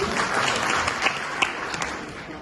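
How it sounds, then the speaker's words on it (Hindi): Lawyers' audience at a district bar association Diwali gathering in Narnaul applauding, a steady patter of many hands with a few sharper individual claps standing out, moderately loud and continuous. "एक बार तालियां बजा दो सब मिलकर जी"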